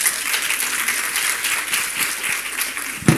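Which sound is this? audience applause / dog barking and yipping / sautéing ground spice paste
audience applause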